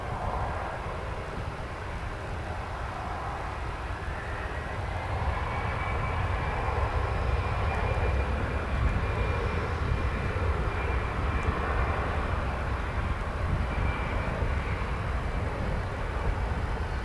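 A jet airliner roars steadily at DFW Airport, its engine noise broad and sustained, growing slightly louder midway through, with no one talking.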